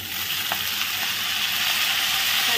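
Fenugreek leaves hitting hot oil seasoned with asafoetida give a steady, close sizzle that holds even and loud from start to finish, with no voices over it.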